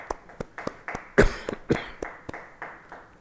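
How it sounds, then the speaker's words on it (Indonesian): Church congregation at a Christmas service giving a round of applause for God, heard as a sparse, rhythmic series of distinct claps with one louder burst near the middle, fairly close in a reverberant room. "Beri tepuk tangan bagi Tuhan."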